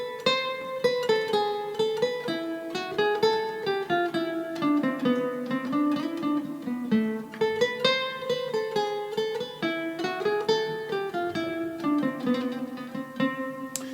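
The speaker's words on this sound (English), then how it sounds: "so let's just check out Johann Sebastian Bach's Bourrée" Solo guitar plays Bach's Bourrée, a flowing melody of clearly picked single notes and light bass lines, with steady phrasing throughout and no talking.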